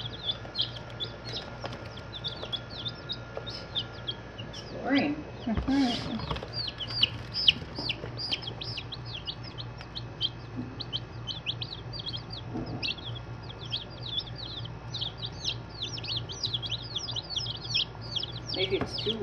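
Many small chicks cheep in a constant high chorus, with occasional hen clucks and soft human voices speaking now and then in the background.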